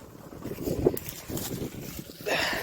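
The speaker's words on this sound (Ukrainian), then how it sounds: "Вітер, звісно, здоровий, не знаю, як чутно мене." Gusty wind buffets the microphone in uneven rumbling surges, with a brief voice and bursts of hiss between gusts, outdoors in a potato field.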